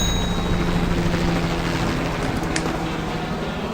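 An evac helicopter in the zombie strategy game Atom Zombie Smasher gives off a steady, even rotor drone that holds at constant loudness with no talk over it.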